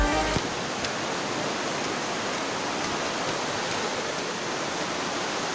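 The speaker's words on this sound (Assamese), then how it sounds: "এইখন নদীখন এইখন হয় এই পাহাৰৰ ওপৰৰ পৰা এনেকৈ আহিছে" A river pours down from the hills at Silonijan in Assam, a steady, dense rush of flowing water filling the scene from start to finish without pause.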